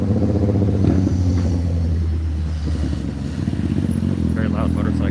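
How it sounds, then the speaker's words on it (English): A very loud motorcycle passes on a partly blocked-off street in Washington, DC, its deep engine rumble droning steadily and near, with a slight swell and fade and some faint background sound. "very loud motorcycle"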